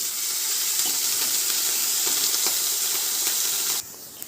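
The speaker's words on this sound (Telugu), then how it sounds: "ఇందులో మనము మగ్గపెట్టుకున్న క్యాలీఫ్లవర్ ఉన్నాయి కదండి అవి కూడా వేసేద్దాం" Steamed cauliflower drops into a hot pan for matar gobi curry, giving a steady hissing sizzle that holds for several seconds before cutting off abruptly near the end.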